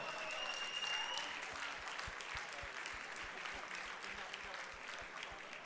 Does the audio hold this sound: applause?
yes